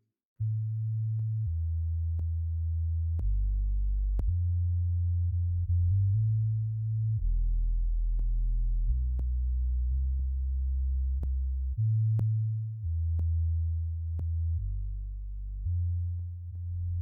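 A synthesized bass line sits in a mix, playing deep, smooth sustained notes that shift pitch every second or so, with faint clicky transients above, steady and continuous throughout.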